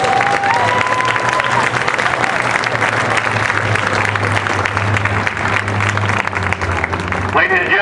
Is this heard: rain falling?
no